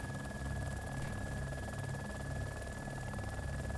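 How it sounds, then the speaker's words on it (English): A military helicopter in ArmA 2: Operation Arrowhead drones steadily, its engine whine and rotor thrum held at constant, moderate loudness throughout without any speech. "and I'll watch my other chopper break itself."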